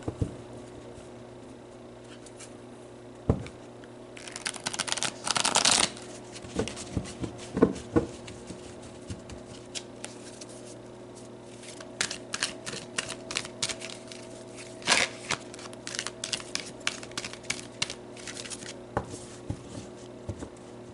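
Tarot cards shuffled and handled close by, with soft riffles, flicks and taps that come in scattered bursts over a quiet background.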